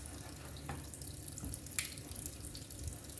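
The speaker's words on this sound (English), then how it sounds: "Let me start to catch some water so we can start to wash the meat" Tap water runs steadily into a sink to wash beef shank for pepper steak, a constant close splashing hiss with a few small splashes.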